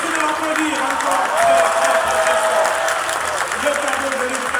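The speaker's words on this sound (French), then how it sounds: "merci de l'applaudir encore" An audience at a teacher tribute ceremony claps steadily, with scattered cheers mixed in. The sustained applause swells briefly in the middle before settling.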